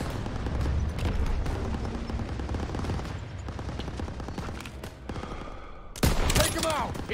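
Machine gun and rifle fire from a World War II battle in Call of Duty WWII, with continuous rattling bursts under shouting soldiers and a loud blast near the end.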